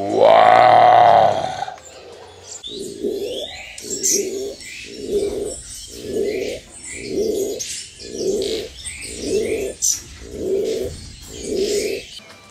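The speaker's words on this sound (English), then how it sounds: "Crown pigeon from the Philippines." A crowned pigeon from the Philippines, kept at a bird breeding center at Zoo del Istmo, gives about ten deep, evenly spaced coos after a brief loud burst of noise, with faint chirps from other birds behind.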